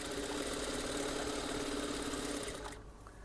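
A sewing machine runs continuously, stitching double seams on palazzo pants with a fast, even mechanical whir, close and steady, before slowing toward the end.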